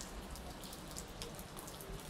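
Rain falling outdoors, a steady dense patter of drops hitting surfaces close by, continuous and fairly loud with no voices.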